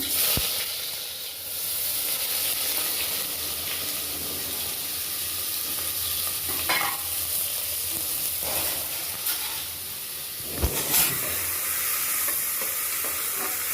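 Chopped onions and mustard seeds fry in hot oil, a steady sizzling, continuous crackling hiss with occasional louder pops and a stir or two.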